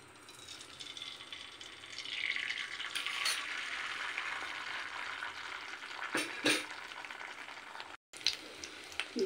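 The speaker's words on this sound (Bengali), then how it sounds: "এবার আমি অমলেটটা ভেজে নেব।" An omelette frying in oil in a pan gives a steady sizzle throughout, with brief louder scrapes or clatters near the end and a short break in the sound.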